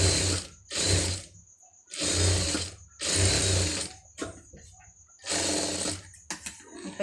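A sewing machine stitches fabric piping for a blouse, running in several loud bursts of steady whirring separated by short pauses, with faint handling noises between runs.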